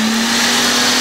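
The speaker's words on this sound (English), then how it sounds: "Let's blend the basil leaves with the coconut milk first." A kitchen blender whirs loudly and steadily as it purees basil leaves with coconut milk for a Thai green curry, a constant close motor drone with no pauses or voices.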